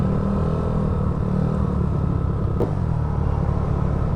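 A Yamaha Mio Fino scooter with a refreshed 160cc engine, 59mm chrome bore and 28mm carburetor, idles loud and steady with a constant rumbling drone, close up and without talk.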